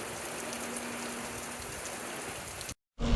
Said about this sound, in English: It is absolutely pouring with rain.